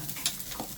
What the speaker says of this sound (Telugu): నెక్స్ట్ ధనియాలు, వీటన్నిటిని బాగా ఇలాగ ఫ్రై చేసుకోవాలి.